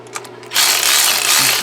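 A stubby wrench ratchets on Chevy spider injector bolts: a few quiet clicks, then a loud, continuous buzzing ratchet sweep up close that runs to the end.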